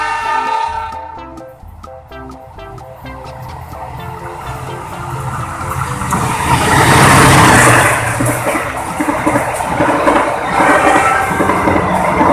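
Rumbling clatter of a toy train running along, growing louder and more rattly midway as it crosses a bridge, with a steady mechanical whir throughout.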